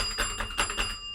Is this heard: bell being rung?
yes